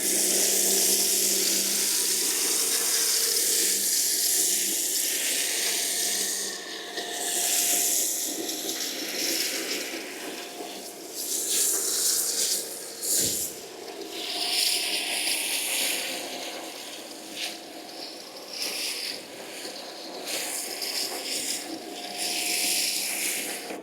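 Snow foam jets from a foam lance onto a car in a loud, close, continuous hissing spray that surges and dips, with a brief break midway and shorter pauses as the spray moves.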